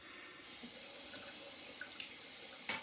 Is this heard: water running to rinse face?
yes